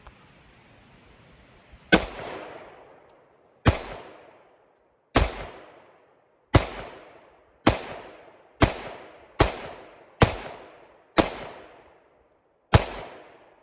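A S&W M&P 5.7 pistol fires ten rounds at 10 yards: loud, sharp reports with ringing decay, spaced unevenly at first and then quickening into a faster string before two final shots.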